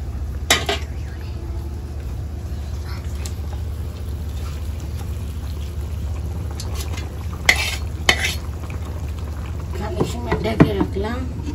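Pieces of fish laid one by one into hot oil in a pan for a village-style glass cup fish masala curry, a steady low frying hiss with a few sharp clinks and sizzling pops near the end.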